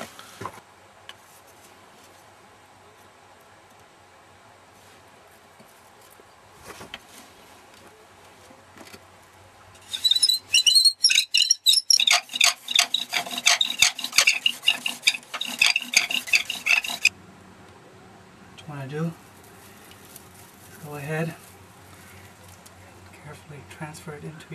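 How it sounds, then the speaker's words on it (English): A bow drill spun by a shoelace bow grinds a spindle against wood to make fire, giving a rapid, rhythmic back-and-forth scraping for several seconds up close. Quiet talk comes before and after. "So what I'll be doing is I'll be drilling a hole right here."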